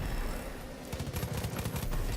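Rapid bursts of gunfire from a weapon in Metal Slug Tactics, a video game, crackling in quick repeated volleys with little else around them.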